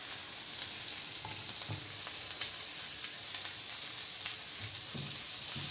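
Onion, ginger and garlic fry in a pan with a steady, soft sizzle and faint crackles, heard alone at close range.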